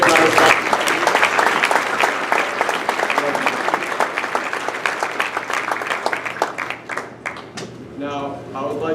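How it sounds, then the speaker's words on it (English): An audience gives a speaker sustained, loud applause, with dense clapping throughout that thins slightly toward the end, and voices mixed in. "Let's give a big round of applause."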